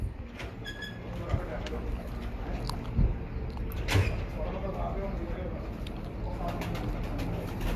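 Pigeons coo on a rooftop, their low calls faint and intermittent beneath people talking and a steady background hum.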